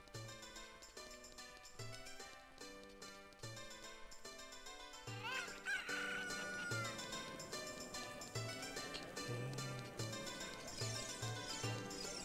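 Chickens (Cuccos) cluck and squawk in The Legend of Zelda: Ocarina of Time, the bird calls rising over a looping, rhythmic in-game music track that plays throughout.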